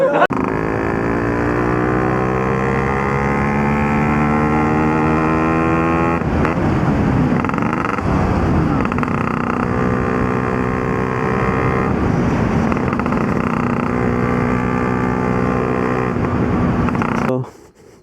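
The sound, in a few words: five-speed motor vehicle engine running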